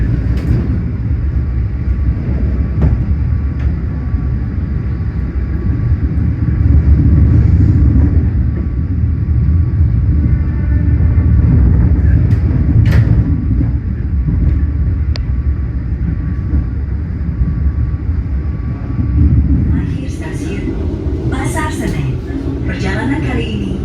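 The Gaya Baru Malam Selatan train pulls out of Surabaya Gubeng in heavy rain, a loud, steady rumble with a hiss of rain throughout and a voice talking over it.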